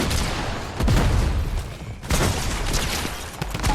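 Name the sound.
pump shotgun shots in Fortnite video game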